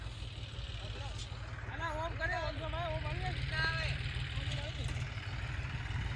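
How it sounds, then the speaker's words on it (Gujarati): A steady low engine chug runs throughout, with a person talking over it. "તો જો ટ્રેક્ટર આવી ગયું છે"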